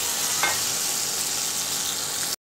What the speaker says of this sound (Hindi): अब हम इसमें हमारे कटे हुए प्याज ऐड कर देंगे और इनको हल्का सा सौते होने देंगे